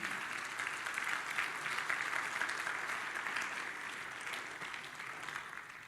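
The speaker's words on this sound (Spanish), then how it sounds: "démosle fuerte ese aplauso al Señor" Church congregation applauds steadily, a broad, even wash of many hands clapping throughout, somewhat distant and moderately quiet.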